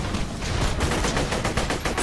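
Rapid laser gun fire in the video game Borderlands The Pre-Sequel, a dense continuous burst of loud shots packed close together across the whole moment with no talking.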